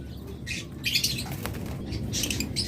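A pair of lovebirds close by, with repeated short squawks and chirps in bursts over a low rustling background, with brief flutters of wings between calls.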